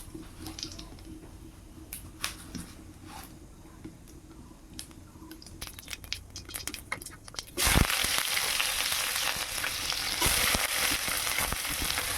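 Potatoes fry in hot oil with dried red chili and cumin seed tempering, a faint crackle with scattered ticks that swells into a loud, steady sizzle as the pan heats up or more food goes in.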